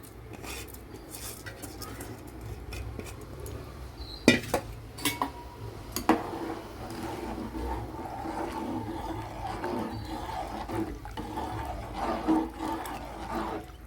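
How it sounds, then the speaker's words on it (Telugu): Rice is stirred and mixed in a cooking pot for egg biryani. A spoon gives soft scraping and shuffling sounds, with a few sharp clinks and knocks against the pot near the middle. "రైస్ కూడా ఒక్కసారి వేసేసి మొత్తం ప్రాపర్గా కలిపేసుకుందాము."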